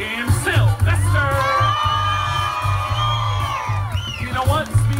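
Crowd at a Fourth of July party erupts in loud cheers, high-pitched children's shouts and whoops layered over a continuous roar, with a few piercing squeals standing out.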